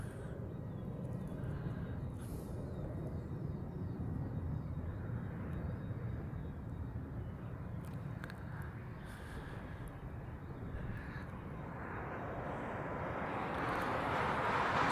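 Airliner arriving at Honolulu airport, a steady broadband jet roar holding level through most of the stretch, then swelling louder near the end as the plane closes in.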